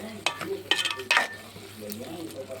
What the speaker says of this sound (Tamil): இந்த இடத்தோட மாங்காய் வேகட்டும்.